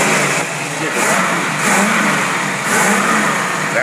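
An engine fitted with an Autolite 4100 carburetor with non-working vacuum secondaries revs repeatedly, rising in three or four loud close surges that settle back between pulls without climbing to high RPM.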